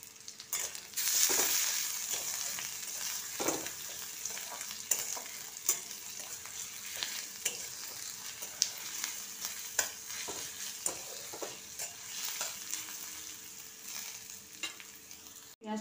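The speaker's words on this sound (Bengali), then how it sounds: "পেঁয়াজটা লাল করে ভেজে নিয়েছি।" Onion frying with ginger-garlic paste and a green chili in a pan, a continuous soft sizzle dotted with frequent small clicks and stirring taps, close but fairly quiet, no voices.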